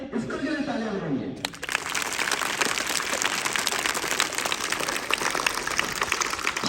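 Students at a school seminar break into loud, sustained applause that fills the space after a brief spoken moment at the start, dense clapping continuing steadily to the end.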